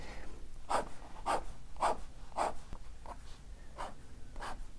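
Pen strokes scratching across paper while drawing an urban sketch in loose single lines, a series of short, close scrapes in a steady rhythm, about eight in all, with no talking.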